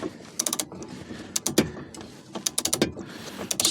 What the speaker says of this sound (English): easier will be work with a ratchet